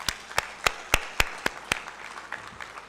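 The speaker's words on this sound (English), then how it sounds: "I want to request us that we give him a more louder hand clap." At a national healthcare quality improvement conference, an audience gives a short round of applause that sounds as sharp, evenly spaced loud claps, roughly one every quarter second, then fades into softer scattered clapping.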